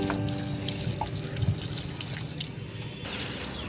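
Water is poured gently onto the dry soil of a potted lemon tree, giving a soft, close trickle and dripping over a steady background hum.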